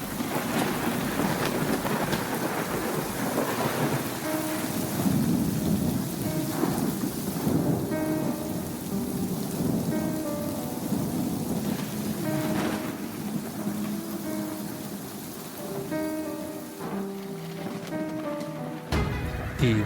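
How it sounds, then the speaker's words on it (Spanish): Heavy rain pours down steadily with rumbles of thunder rolling through it, a dense, continuous downpour without any voices. "bajo esta misma lluvia."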